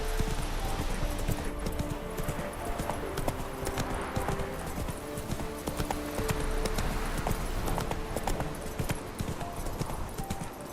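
Hooves of Roach, the horse in The Witcher 3 video game, clatter in a continuous gallop, a dense rhythmic clip-clop at even, fairly loud level across the whole stretch, with faint game ambience underneath.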